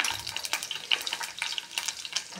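Garlic, curry leaves, cumin and turmeric frying in hot oil in a pan, a close, busy crackle and sizzle with quick spitting pops throughout, no speech.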